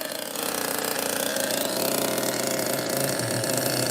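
A vintage RC model engine runs loud and close, holding a dense, buzzing high-pitched drone that stays steady with slight wavering throughout, with no voices over it.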